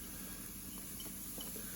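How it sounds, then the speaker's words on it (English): Onion dropped into a dry pot with no oil, sizzling as a faint, steady hiss that runs without a break. "Oh, we've got the sizzle straight away."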